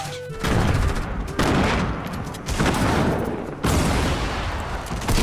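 Loud Fortnite gunfire fills the moment in repeated heavy bursts of rapid shots and booming impacts, several waves in a row, close and dense with no one talking over it.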